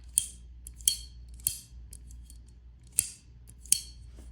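A WorkPro utility cutter blade slides and clicks into place five times in crisp, metallic snaps, spaced unevenly over a quiet, faint background with no talking.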